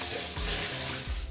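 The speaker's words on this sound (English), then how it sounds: "I'm going to wash this rice thoroughly" Rice is washed under running water, a loud, close gush of flowing water with swirling splashes and a couple of brief surges over about a second.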